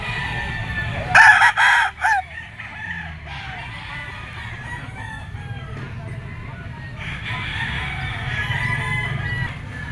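Gamefowl roosters crow at an outdoor pet market, one loud nearby cock-a-doodle-doo bursting out early, followed by fainter crowing and clucking from other birds over a low murmur of market background.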